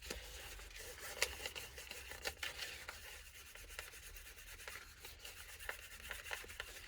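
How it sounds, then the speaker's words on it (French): Sandpaper rubs by hand against a surface in quiet, repeated scratchy strokes of uneven rhythm, close but soft, with no talking. "Mais tu ponces quand même."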